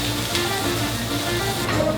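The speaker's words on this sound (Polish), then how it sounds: "I wszystko lekko podsmażamy." Steady oil sizzle of onions and halved cherry tomatoes frying in a pan, a continuous crackling hiss with occasional stirring, close up and fairly loud.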